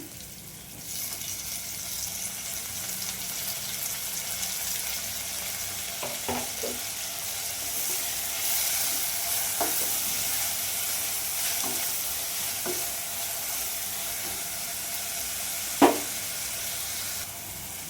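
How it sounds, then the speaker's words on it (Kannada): Lentils and tomato fry in a pan with a steady broadband sizzle throughout, broken by a few soft scraping stirs of a spoon and one sharper knock near the end; no talking. "ನೋಡಿ ಈ ಥರ ಚೆನ್ನಾಗಿ ಫ್ರೈ ಮಾಡಬೇಕು"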